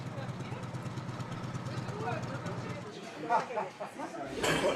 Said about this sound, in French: Un groupe de motards français arrive à la station-service d'à côté